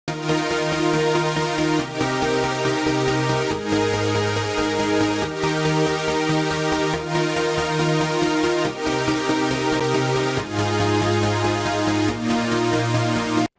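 Two layered synthesizers play future bass chords that pulse in a steady rhythm, changing harmony every couple of seconds, loud and continuous with no voices.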